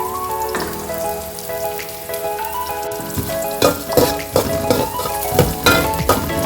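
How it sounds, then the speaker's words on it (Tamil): Small pieces of coconut fry in ghee with a steady sizzle and crackle, close and loud, while a spoon stirs and scrapes in the pan over music playing in the background. "இதை நம்ம இப்போ கோல்டன் நிறம் ஆகும் வர வறுத்தெடுத்துடலாம்."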